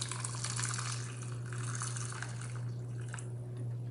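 Boiling water splashing and trickling steadily as it is poured, close by, with a low steady hum underneath and no talking.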